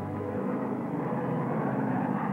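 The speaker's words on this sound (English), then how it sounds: "Navy fighters and bombers were wound up and sent off" Navy fighter and bomber aircraft engines drone in a steady, loud, continuous roar, with no talk over it.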